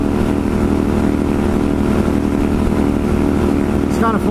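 A motorcycle engine holds a steady, loud drone while riding on the road, heard close from the rider's position, with wind rush and a voice talking over it.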